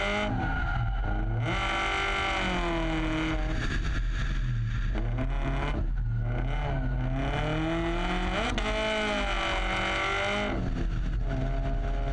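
Race car drifting, with a loud, continuous engine wail whose pitch swoops up and down over several throttle blips, mixed with squealing tyres and skidding, heard without talk.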